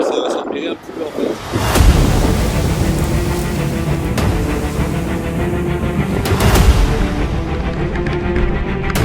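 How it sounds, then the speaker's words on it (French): Waves and strong wind at sea aboard the sailboat Vénus crossing the Pacific Ocean, a steady loud wash of surf with gusty wind buffeting the microphone, swelling in a few heavier surges. "Il y a pas mal de vagues. Pas mal de vent aussi."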